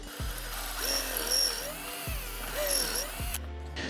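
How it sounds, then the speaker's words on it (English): A drill bit chewing into a metal pocket hole jig, with two close, harsh grinding bursts carrying a rising and falling squeal, each ending abruptly, with no speech. "It's like it's drilling into metal."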